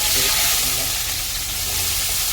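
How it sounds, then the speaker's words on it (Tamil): Onions sizzle and fry in a pot of oil with whole spices for mutton curry, a loud, steady hiss filling the moment without pause. "அடுத்ததா வெங்காயம் போடுறோம்."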